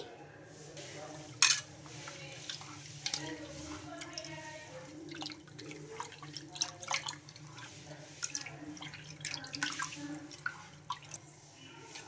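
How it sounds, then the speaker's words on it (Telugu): Soaked grains being washed by hand in a bowl of water for coconut idli batter, soft sloshing and drips with occasional clinks of a metal vessel, quiet and close. "దీన్ని కూడా బాగా ఒక రెండు సార్లు అయితే కడిగేసుకుందామండి"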